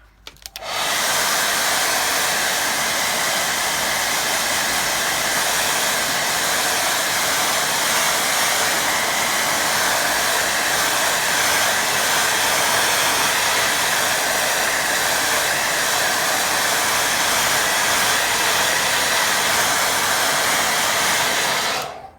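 Hair dryer blasting steadily to dry a watercolour painting, a loud continuous close-up whoosh that starts abruptly and runs unbroken for about twenty seconds before cutting off, with no voices.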